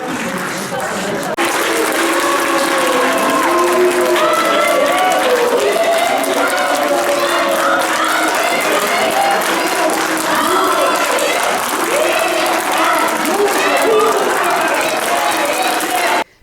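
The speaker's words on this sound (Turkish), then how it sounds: "meclisi izleyen Demokratik Kitle Örgütü temsilcileri tarafından alkışlarla protesto edildi" Sustained protest applause from civil society group representatives watching a municipal council meeting, dense steady clapping filling the room throughout with crowd voices and chatter mixed in, cutting off abruptly at the end.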